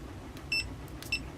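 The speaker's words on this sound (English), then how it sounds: "And if the multimeter beeps," Multimeter on a continuity test while wiring a laptop webcam PCB, giving two short high-pitched electronic beeps about half a second apart over a faint background hiss.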